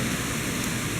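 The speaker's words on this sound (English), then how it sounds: "Yeah, rain! Rain, people! Rain!" Steady rain falls during Hurricane Matthew in Savannah, Georgia, a dense, even hiss of drops with no breaks over about a second.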